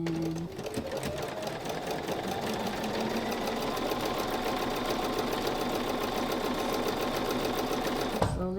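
A sewing machine chain-pieces a quilt block, its needle chattering in a fast, even, continuous rhythm at moderate volume, close by, with a brief stop at the very end.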